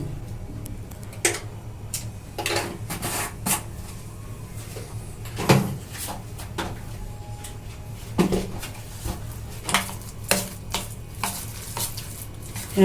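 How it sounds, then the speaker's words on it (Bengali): A spoon works a chickpea mixture with salt in a bowl, producing irregular scraping and clacking taps at close range against a low background hum. "ভালো করে মিশিয়ে নেব"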